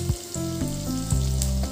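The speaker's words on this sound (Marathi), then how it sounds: "थोडंसं तेल गरम झालं की मग आलं टाकायचं आहे त्याच्यात" Ginger frying in a little hot oil in a pan for a veg frankie roll filling, a steady close sizzle with a few clinks of a utensil, alone without talk.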